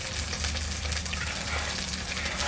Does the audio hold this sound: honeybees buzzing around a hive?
no